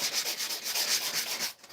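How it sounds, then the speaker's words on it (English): Steady rhythmic sanding of a drywall patch, a bright scratchy rasp repeating in quick back-and-forth strokes, close and fairly loud, with no voices. "we have to do some sanding"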